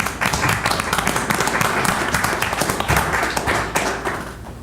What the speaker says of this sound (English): give a round of applause to the Winks